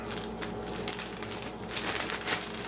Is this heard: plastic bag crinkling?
yes